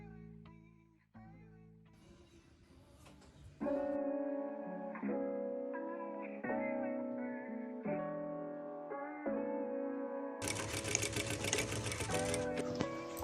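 A domestic sewing machine stitches the seams of a dress, running in short bursts that stop and start, then speeds into a louder, faster hum near the end, heard alone and close.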